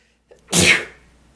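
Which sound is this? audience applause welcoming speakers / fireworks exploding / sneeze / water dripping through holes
sneeze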